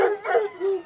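Hunting dogs in France, eager before a hunt for deer, boar or rabbit, give three quick close barks and yelps in a short, excited burst.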